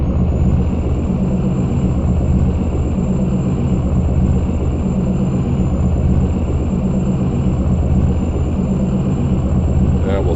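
A heavy truck engine drones low and steady in American Truck Simulator while the rig slowly gains speed on a Wyoming highway, with a constant rumble and a thin high whine throughout.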